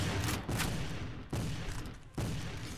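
Gunfire from a Call of Duty-style American Civil War video game: three loud, close, muffled shots or volleys a second or so apart, each followed by a brief rumbling tail, with no talk over them.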